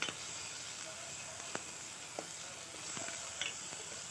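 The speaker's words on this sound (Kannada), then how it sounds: "ಟೊಮೆಟೊನ ಆ್ಯಡ್ ಮಾಡಿ ಮತ್ತೆ ಅದನ್ನು ಫ್ರೈ ಮಾಡಬೇಕು." Onion and tomato frying in a pan give a faint, steady hiss with a few soft stirring clicks at intervals and no voices.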